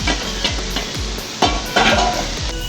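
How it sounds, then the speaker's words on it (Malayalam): Soybeans sautéing in oil in a pan, with a steady close sizzle and repeated scraping strokes of a spoon stirring against the metal. "ആ പാനിൽ തന്നെ നമുക്ക് സോയാബീൻ ഇട്ട് വഴറ്റിയെടുക്കാം."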